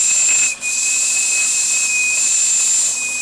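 Steam tugboat Moulay-Idris under acceleration: a loud, steady steam whistle tone rides over continuous hiss, with a brief dip near the start before the sustained roar resumes, close and unbroken throughout.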